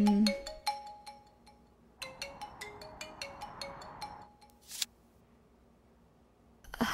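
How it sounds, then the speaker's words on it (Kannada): A mobile phone rings with an incoming call in a Kannada film scene. A quiet, tinkling melodic ringtone plays in two runs of quick notes, followed by a brief click, with no voices. "ಸುಂದರ ಕಾಲ್ ಮಾಡ್ತಾ ಇದ್ದಾನೆ,"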